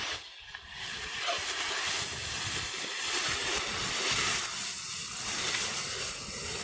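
Onions sizzle and hiss steadily in a hot cauldron over a campfire, a constant crackling fry that holds at an even level without pause.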